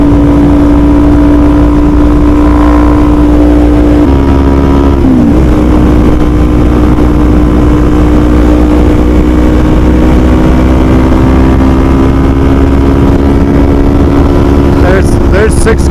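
A 2021 Kawasaki Z400 motorcycle cruises at high speed in sixth gear, its engine holding a steady, loud drone with a brief dip in pitch as it shifts. Wind noise fills the background and a voice talks over it.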